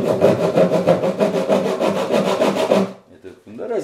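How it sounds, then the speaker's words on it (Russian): Pine wood is cut with a hand saw in fast, regular back-and-forth rasping strokes, loud and close, stopping abruptly near the end before a brief quieter scrape. "вот так вот я это распилю, показываю. Ну вот так вот начинаю пилить, конечно."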